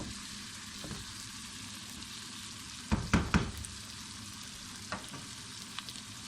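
Meat and tomatoes for chaniya gosht frying in a pan with half a spoon of salt, a steady low sizzle broken by a few sharp knocks and scrapes of a utensil partway through.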